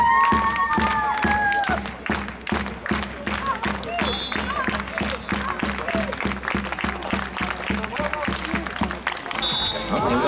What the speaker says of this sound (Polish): Wszyscy klaszczemy.